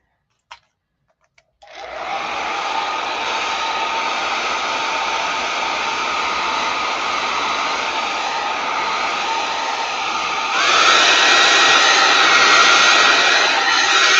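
A hair dryer blows steadily and loudly at close range, drying paint during an art session; after a short click it runs alone, with its roar rising slightly toward the end.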